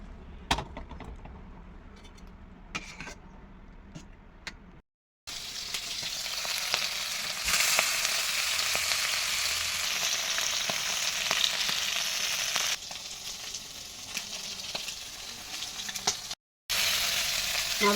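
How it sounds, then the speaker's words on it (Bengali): Fish sizzling in hot oil in a home kitchen, a steady, bright crackle that swells loud and continuous after a few quieter clinks at the start, with brief pauses near the end. "মাছ ভাজা হয়ে গেছে, নামাই নিলাম।"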